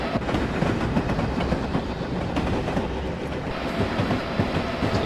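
A train rolls along the track in Train Simulator 2015, a loud, continuous rumble with rhythmic clickety-clack from the wheels and no voices.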